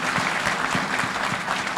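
Steady applause from an audience at an award ceremony during a presidential launch event, a dense, continuous clapping texture that holds at an even level for the whole stretch with no voices on top.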